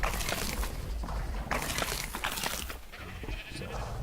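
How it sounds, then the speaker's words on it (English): Sheep bleat in the survival game ARK: Survival Evolved, several loud, wavering cries overlapping close by over a dense, noisy game background. "Those are the faster sheep in the bottom."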